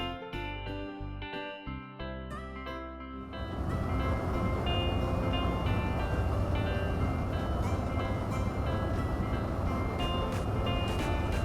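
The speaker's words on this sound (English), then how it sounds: "Tram." A white tram on a city street, a steady loud rumble of rail travel that swells after the first few seconds and then holds, with a tonal hum running under it.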